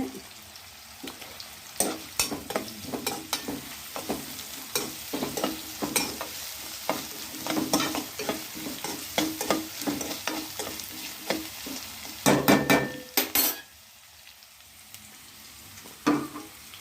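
Onion and ginger garlic paste frying in a pan give a soft, constant sizzle, broken by frequent clattering scrapes of a spoon as the mix is stirred, with a busy burst of stirring near the end.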